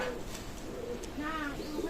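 Pakistani Teddy pigeons coo softly at close range. Their low, warbling calls come in short bursts beneath someone talking.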